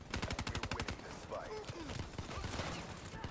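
Rapid automatic gunfire in the Call of Duty: Black Ops 3 video game, a fast regular burst of close, loud shots opening the clip, then scattered distant shots under a voice.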